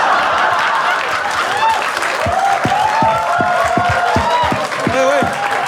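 An audience at a Hindi stand-up comedy show claps and cheers in a loud, continuous burst, with a few whoops and laughter mixed in and a voice talking over the noise.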